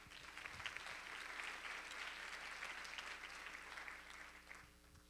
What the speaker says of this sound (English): So an applause for that, please.